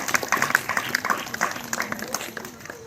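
An audience at a community meeting for a 65th birth anniversary gives a moderate round of applause for a woman, a dense patter of claps at medium distance that thins out toward the end, with voices faintly underneath.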